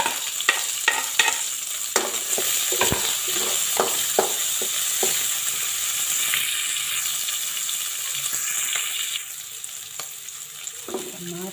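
Onion sautés in a pan of browned garlic for a Bicolano-style igado, giving a steady sizzling hiss broken by repeated scraping and clacking stir strokes near the start, then settling into quieter frying.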